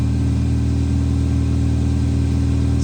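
A 2001 Chevy Prizm with a 1ZZ-FE engine idles steadily while warming up, giving a close, even, continuous low hum with no other sounds.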